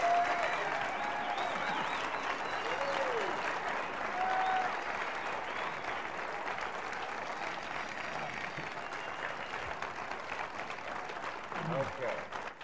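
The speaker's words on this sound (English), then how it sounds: "A very well-deserved round of applause." A comedy festival audience applauds the Smothers Brothers and their guests, a broad, moderately distant wash of clapping that runs on steadily while a voice speaks over it.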